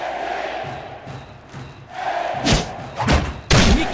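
A sharp leather thud of a baseball popping into a catcher's mitt in a video game, followed by another pop, over a steady murmur of stadium crowd noise.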